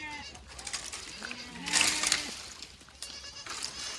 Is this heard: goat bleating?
yes